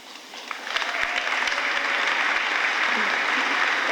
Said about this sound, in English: They're applauding every line.